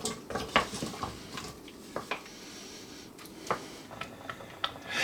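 A mixed berry jam mixture being stirred in a pot over high heat: quiet, intermittent scrapes and soft clinks of the spoon against the pot, irregular in rhythm, with no voices.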